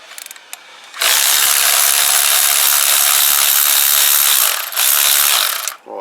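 A ratchet loosens the hefty bottom pinch bolt on the front end of a Kawasaki BN125 Eliminator motorcycle, a loud, close, continuous rapid clicking that runs for several seconds, pauses briefly, then resumes before stopping.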